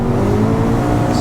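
Engine-swapped VW Polo GTI carrying a Golf R engine, loud and close, with a dense exhaust roar and rapid crackling pops from the tailpipe over a brief burst.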